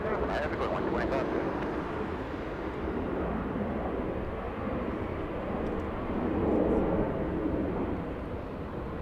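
Broadband jet engine roar from a heavy Lufthansa airliner at Los Angeles International Airport, steady and fairly loud throughout with a slight swell near the end, under faint background chatter.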